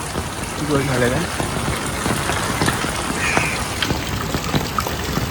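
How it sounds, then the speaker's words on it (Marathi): Dense, steady hiss of heavy rain pouring down throughout, with voices talking over it. "फुल पाऊस आलाय"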